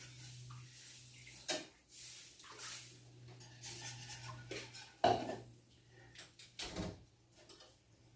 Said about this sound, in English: I'm going to add 2 cups of milk to this. And I'm going to stir as I add it, so it don't clump up.